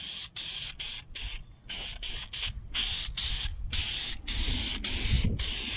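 A spray can hisses in rapid intermittent bursts as coats of paint go onto a brake master cylinder for a Mustang brake system rebuild. The spraying is close and steady, with no talking.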